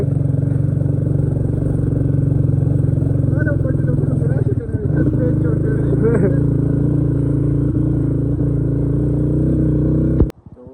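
Motorcycle carrying two riders climbing a steep mountain road to Green Top above Kalam, its engine a loud continuous drone with rattles and shifts in pitch before cutting off sharply near the end, with talk over it.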